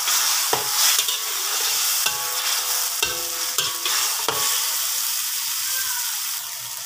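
Food sautés in a pan with a loud, continuous sizzle and hiss, broken by several sharp scrapes and clatters of a spoon stirring. No one talks.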